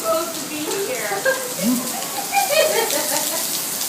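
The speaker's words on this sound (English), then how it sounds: "it's pouring" Heavy pouring rain outdoors, a steady broadband wash of downpour with voices and brief vocal sounds in the background.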